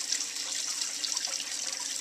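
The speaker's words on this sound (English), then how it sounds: "that's what pumps the water back up into my aquarium" An aquarium sump return pump pushes water back up into a home reef aquarium, producing a steady close hiss of running, splashing water with no pauses.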